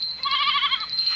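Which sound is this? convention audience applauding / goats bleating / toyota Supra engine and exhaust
goats bleating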